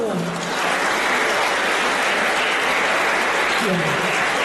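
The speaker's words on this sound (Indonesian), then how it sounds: "Tepuk tangan untuk kalian semua." Students and guests at a school orientation opening at SMA Negeri 17 Palembang clap together in a steady, full round of applause that holds for several seconds, with a voice faintly beneath it.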